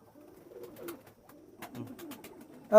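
A Dabla pigeon pair coos softly at close range, two low murmuring calls with a short gap between them, faint and unaccompanied by talk.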